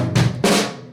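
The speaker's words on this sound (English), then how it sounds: "Right, where the bass drags there." Two loud, close drum hits from a drum kit, the bass drum landing slightly behind the other stroke so the pair sounds uneven and dragged, ringing out briefly afterward.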